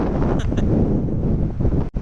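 Strong cold wind buffets the microphone outdoors, a steady loud roaring rush throughout, with a brief dropout near the end.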